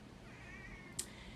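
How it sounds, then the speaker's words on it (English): A single short cat meow, faint and somewhat distant, rising briefly over a quiet room hum. "Don't mind my cat meowing in the background"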